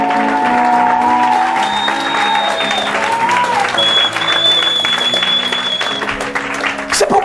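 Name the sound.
congregation applauding and cheering for the Lord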